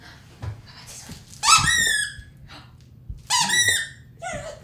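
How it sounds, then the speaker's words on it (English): At an animal shelter, a dog's squeaker toy gives two clusters of sharp, high squeaks close by, with faint handling noise and a brief voice between them. "let's see what you think of a squeaker toy"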